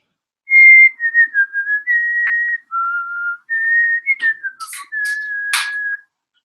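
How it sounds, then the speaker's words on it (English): A person whistles the tune Dixie, a clear solo melody of sustained and quickly fluttering notes with a few breathy accents, close and loud, lasting about five seconds. "Whistling Dixie."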